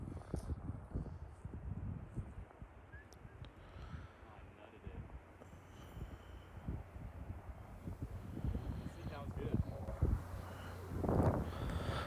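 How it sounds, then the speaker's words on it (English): Strong wind outdoors on a wooded tournament course, a continuous low rumble buffeting the microphone and swelling in gusts, with faint voices underneath. "As you could hear, the wind is going crazy right now."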